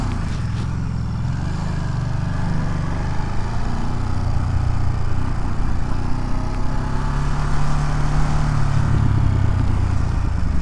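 A motorcycle rides through Manhattan streets, its engine a steady, close rumble that holds throughout with slight swells in throttle and wind noise, no voices over it.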